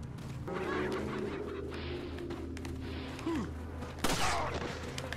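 Chickens clucking and squawking in the Resident Evil 4 video game, several fowl calls over game ambience, with a sharper burst of flapping noise near the end.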